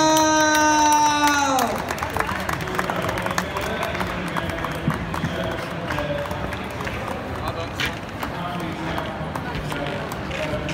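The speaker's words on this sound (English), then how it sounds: "give a massive round of applause to Yucel!" Crowd at a finalist announcement cheering and applauding: a sustained wash of clapping and scattered cheers rising after a brief held musical tone, continuing loud and steady for several seconds.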